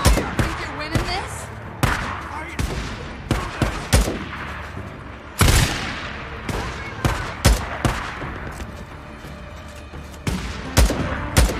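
Gunfire in the video game Days Gone: bursts of sharp shots and rapid volleys, some near and loud, others lighter, irregularly spaced over a continuous game soundscape.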